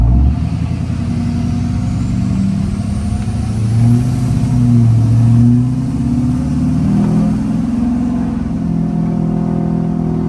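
A GMT800 pickup truck's engine runs steadily and loud and close for the whole stretch, with its low rumble swelling through a couple of rises in revs while driving.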